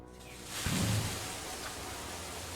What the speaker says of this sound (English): Shower for about half an hour.